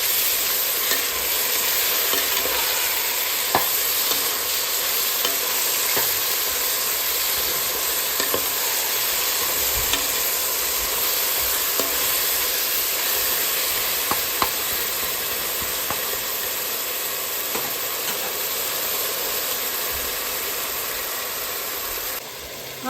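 Tomato, green beans and carrot sautéing in a pan for a mutton-bone coconut-milk biryani, giving a steady, close sizzle with scattered stirring scrapes throughout, no talking.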